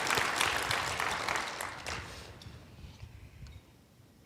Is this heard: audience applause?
yes